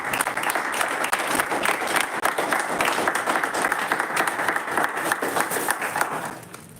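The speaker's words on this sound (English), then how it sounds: "a huge round of applause." Sustained applause from a room full of people at a Toastmasters club meeting, dense and even, clapping steadily for several seconds before tapering off at the end.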